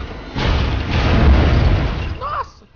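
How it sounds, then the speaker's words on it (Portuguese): A heavy, muffled explosion in the video game LEGO Batman 3: Beyond Gotham booms and rumbles for about two seconds, with a short voice sound as it fades. "Nossa, que explosão, velho."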